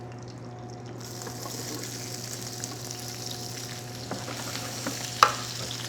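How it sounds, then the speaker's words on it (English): Carrots, onions and celery frying in olive oil in a pot, a soft steady sizzle over a low hum, with a sharp clink near the end. "We add the mirepoix, which is a carrots, onions, celery."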